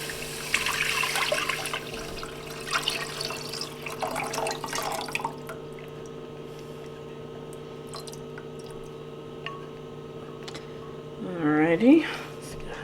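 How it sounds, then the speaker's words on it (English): Broth made with bouillon base is poured into a soup pot while being stirred, giving soft splashing and sloshing up front, then a quieter background with occasional drips and a brief swirl near the end. "And then I'm adding my 4 cups of broth, stirring it while I'm adding it."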